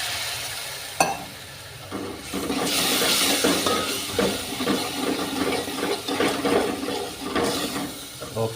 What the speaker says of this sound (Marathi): आता परत ह्याच्यात पाणी टाकू थोडं